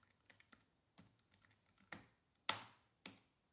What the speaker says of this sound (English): Let me type that in here for you.